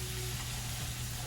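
Potatoes sizzle and fry steadily in a hot pan for breakfast burritos, a continuous close crackling hiss with a brief toss of the pan, no talking.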